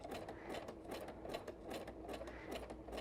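A sewing machine stitches fabric onto a paper greeting card, running with a fast, even mechanical chatter, close and steady throughout.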